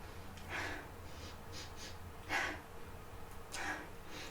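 Nose sniffing at a pastry-scented squishy toy, three short quiet inhaled sniffs spaced about a second apart, close to the microphone over a faint hum.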